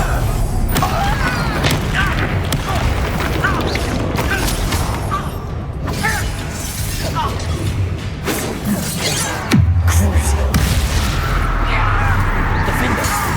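Bombarda spell blasts in the video game Hogwarts Legacy, loud booming explosions and crashes amid continuous combat noise, with a heavy low impact near the end.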